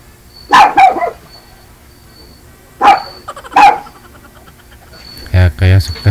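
A neighbour's dog barks in short bursts of two or three, close and sharp, with pauses between them and a low thump near the end.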